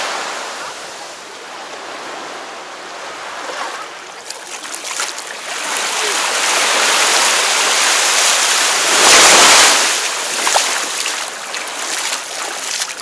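Steady rushing sea surf on Mauritius with waves building and breaking, a loud swell peaking midway, heard close by with wind noise.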